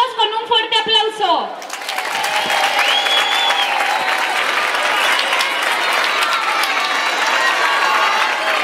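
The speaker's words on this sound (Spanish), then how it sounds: "¡Recibámoslos con un fuerte aplauso!" A street crowd greets the arrival of the Three Kings at a village Epiphany parade with loud, sustained applause and cheering, children's shouts mixed in, after a brief burst of music or amplified voice at the start.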